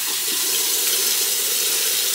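Water runs steadily from a tap into a sink while a face is being washed, a smooth continuous hiss and splash that stays loud and close with no talking.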